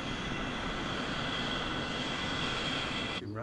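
A Boeing airliner taxiing onto an airport runway gives a loud, steady broadband jet engine roar that holds level, then drops away abruptly at the end.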